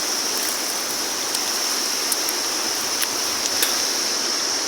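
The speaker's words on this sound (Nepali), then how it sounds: "तम्मर नदी नजिकै बगिरह्यो" The Tamor river flows close by as a steady, loud rushing of water, continuous and unbroken with no voices.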